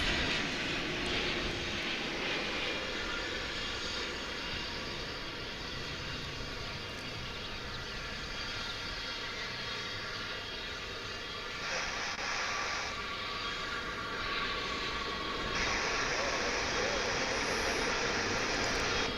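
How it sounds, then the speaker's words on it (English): A five-year-old Boeing 787-9 Dreamliner lands at Dallas/Fort Worth International Airport after a flight from Sao Paulo, its jet engines giving a loud, steady, broadband roar that carries on throughout with no voices. "That is the finale of a 9-hour and 21-minute flight aboard that 5-year-old 787-9 from Sao Paulo."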